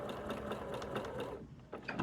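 A sewing machine stitching a quilt block runs in a quick, steady rhythm of mechanical stitching, close by, pausing briefly before starting again.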